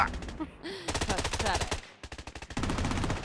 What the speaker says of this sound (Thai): โอ้ยิงกันมันจัด